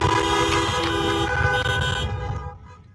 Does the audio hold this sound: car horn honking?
yes